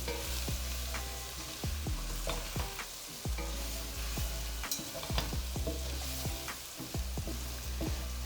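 Indian dhal stirred in a hot pot with curry powder, a continuous sizzling fry broken by repeated scraping and knocking strokes of the spoon, close up and fairly loud, with no voices.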